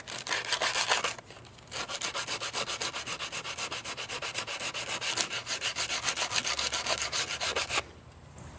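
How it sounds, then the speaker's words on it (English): Heavy-duty sandpaper rubs back and forth over wooden pallet boards, giving steady, close, rhythmic rasping strokes. The scraping stops for a short pause near the start and again at the end. "try sanding down these boards to thin them out just a little bit"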